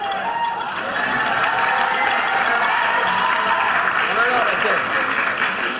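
Audience applause at a high school lecture on molecular gastronomy, steady and fairly loud, with scattered voices and light cheering mixed in.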